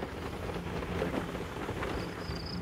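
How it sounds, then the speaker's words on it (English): Steady rain falls outdoors in June in Bulgaria, a dense continuous patter mixed with a low wind rumble and brief microphone buffeting. "And raining, raining."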